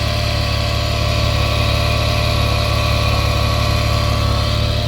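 A running Porsche 911 Carrera 2S engine with a worn, noisy alternator bearing gives off a steady, close, continuous mechanical drone with a rough whirring edge that holds constant throughout, with no talk.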